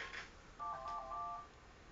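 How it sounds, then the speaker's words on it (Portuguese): A telephone gives one faint electronic ring, a steady tone burst of about a second that stops, with no talk during it. "o telefone tá tocando, como sempre."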